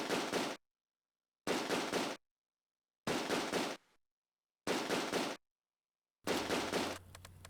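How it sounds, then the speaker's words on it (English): Rifle fire in the World War II tactics game Close Combat, set in Operation Market Garden: five sharp, loud bursts of shots separated by near-silent gaps, the last trailing into a low hum. "Rifle fire eliminates 1 soldier and the other goes to ground."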